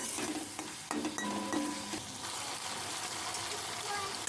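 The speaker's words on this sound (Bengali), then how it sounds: "মশলাটা ভালো করে কষিয়ে নিচ্ছি।" Spice masala with salt and sugar being stir-fried in a pan for dudh potol, a close hissing sizzle with spatula scrapes and clinks over the first couple of seconds, then steady frying.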